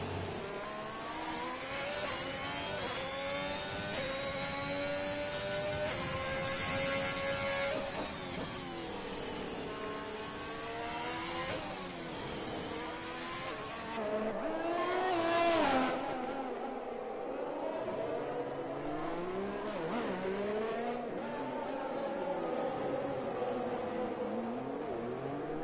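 Race cars lap the Monaco street circuit in a racing video game, their engines revving and shifting with rising and falling whines, one car passing close with a louder surge midway, steady and continuous without talk.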